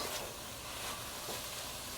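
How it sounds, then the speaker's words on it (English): Onions sizzle steadily in a hot pan, a constant crackling hiss with occasional stirring scrapes, no talking. "you want the onions to sizzle and release their flavor"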